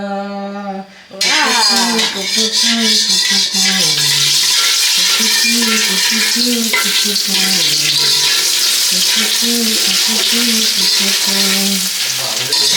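A husband fries food in a pan, a steady loud sizzle with stirring scrapes running throughout, while music with a sung melody plays over it.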